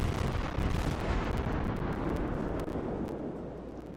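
A naval shell volley slams into a ship in World of Warships, a dense, rumbling barrage of booming impacts and explosions that stays loud and continuous throughout before easing slightly near the end.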